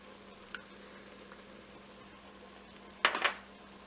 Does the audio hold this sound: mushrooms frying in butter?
yes